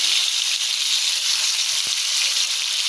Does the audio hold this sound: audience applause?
no